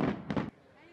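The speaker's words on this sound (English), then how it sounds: "Here you can enjoy a spectacular fireworks show under the Tuscan summer night sky." Fireworks over the Arno River in Florence on a summer night: a few booming bursts in quick succession, then a fading rumble, with a voice talking over them.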